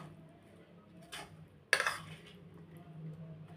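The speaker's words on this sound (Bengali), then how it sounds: "এবার সব একসাথে ভালো করে মিশিয়ে নেব।" A spoon mixes sweet corn chaat with melted butter in a bowl, giving two brief clinks against the dish over a faint, quiet background.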